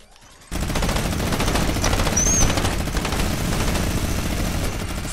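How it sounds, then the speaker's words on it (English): Loud, sustained automatic gunfire erupts after a brief quiet start in a shooter video game with miniguns and SMGs, a relentless rapid rattle of overlapping bursts close up, without speech. "me and you are both gonna spray this guy."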